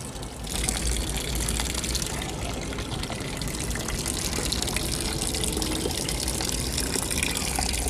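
Water gushing steadily from a tap into a container of eggshells being washed, a loud continuous rushing pour that keeps going at an even level without any talk.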